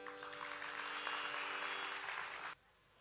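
An audience at a youth awards grand finale gives steady, full applause after a musical performance, and the clapping stops abruptly after about two and a half seconds.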